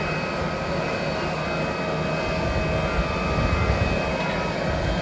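The airliner for a flight from Tokyo to Okayama roars steadily at an airport, a continuous broadband jet engine rumble with a faint whine that holds level for the whole stretch, heard from a distance.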